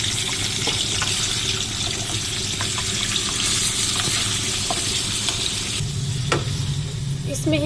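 Chicken pieces sizzle and fry steadily in a pan for chicken karahi, with stirring scrapes and a brief burst of running tap water near the end, no talking.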